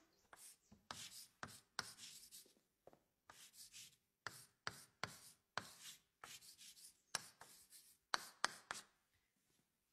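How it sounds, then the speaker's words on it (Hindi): Pen or pencil scratches across paper in a string of short, crisp strokes grouped into bursts with brief pauses, close and fairly quiet, with no talking. "कुछ ऐसा लिखते थे विंची साहब।"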